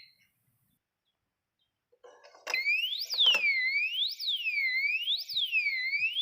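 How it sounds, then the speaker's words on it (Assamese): A motorcycle disc brake lock's anti-theft alarm starts after a few faint clicks and handling knocks, then sounds loudly and continuously as a shrill, rising and falling electronic siren that sweeps up and down in a steady repeating cycle. "এটা অলপ লৰচৰ হলে এইটো এলাৰ্মখন বাজি উঠিব"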